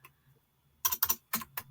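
Keys on a computer keyboard are struck while entering text into an Excel cell: a quick burst of about five crisp, close clacks in two small clusters after a near-silent start, with no talk.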